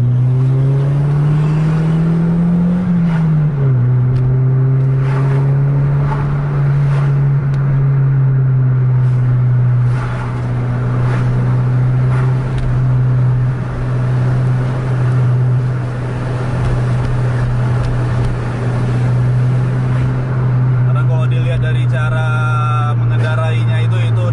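A Hino R260 bus chases a Scania K410 bus at night, its diesel engine droning loud and steady throughout, dipping slightly in pitch early on and revving again near the end, with voices faintly underneath.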